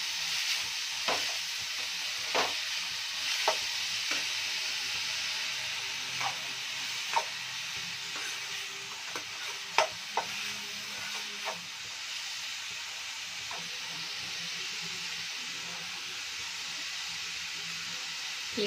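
Onions sauteing in a pan over a high flame give a steady close sizzle and hiss, broken by occasional sharp clicks and scrapes from stirring.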